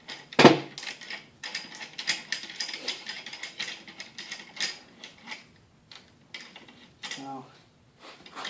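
Bearing puller working a bearing off the front axle of a Kubota BX25 tractor, with a C-clamp holding the puller in place: close, irregular ratcheting clicks and metallic taps over several seconds, with a few quieter pauses.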